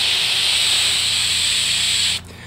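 Air is blown back through a leaking expansion tank pressure cap, making a steady close hiss for about two seconds before cutting off abruptly.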